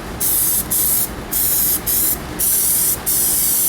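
Aerosol spray can applying gunmetal gray Plasti Dip to wheel rims, five loud close hissing bursts of roughly half a second to a second each, separated by brief pauses, with no talking.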